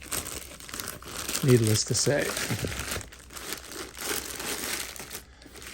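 A plastic bag crinkles and rustles in bursts as a heavy outdoor low-voltage transformer is pulled from it, close by, with someone speaking briefly over the handling.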